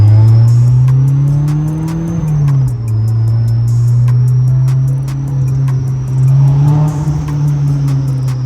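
A supercharged Honda S2000 cruising on the road, its engine droning steadily and loud from inside the car, with the pitch rising and dipping slightly as the throttle changes and a faint whine riding above.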